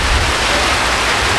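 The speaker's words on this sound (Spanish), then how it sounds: "Realmente está lloviendo recio" Heavy rain pours down in a steady, loud, hissing wash with no breaks, close and continuous, with no voices over it.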